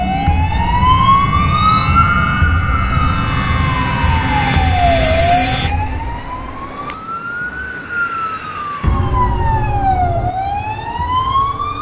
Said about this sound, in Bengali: পুলিশের গাড়ির সাইরেনের আওয়াজ শুনে